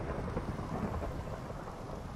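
A Minecraft thunderstorm roars with steady, dense rain and rolling thunder, a loud, unbroken wash of noise throughout with no voices.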